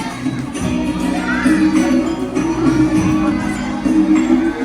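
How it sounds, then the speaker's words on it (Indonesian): Schoolchildren at an elementary school culture-week event clap and cheer for their classmates from grades 2A and 2B, a lively crowd of young voices shouting over a steady hum and scattered clapping. "Beri tepuk tangan dong teman-teman"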